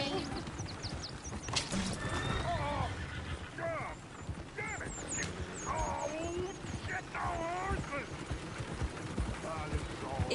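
Horses neigh and whinny repeatedly over steady clip-clopping hooves in Red Dead Redemption 2, with a busy ambient game soundscape and people talking underneath throughout.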